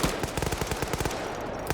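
Rapid automatic gunfire in a video game match, a fast, loud burst of shots rattling on in quick succession, with no voices.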